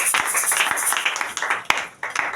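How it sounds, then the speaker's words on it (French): A church congregation breaks into applause, a dense, steady wash of many hands clapping at close range that keeps going for a couple of seconds with a few sharper claps standing out. "On acclame pour la parole de Dieu."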